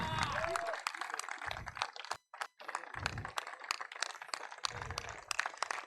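An audience applauds the tournament's best player at the Orient Super League 2023 cricket ceremony, with a steady patter of clapping that swells and thins in waves while someone speaks over it.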